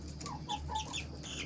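Young chickens, including a two-month-old mini rooster, cluck softly at a local farm in Nepal, a few faint close calls over a low background hum.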